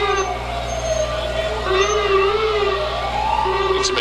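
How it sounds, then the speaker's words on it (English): A wailing ambulance siren, faulty and sounding sick, rises and falls over the rumble of the ambulance at a Halloween parade, loud and close, its tone slightly wavering and uneven. "Get some attention on that siren. It sounds sick."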